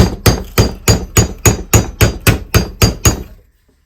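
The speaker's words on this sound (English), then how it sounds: "I'm going to work it on the anvil, both sides, try to flatten it." A steel hand saw blade with a kink is hammered flat on an anvil: eleven sharp, evenly spaced metallic strikes ring out loud and close, then stop, with no talking.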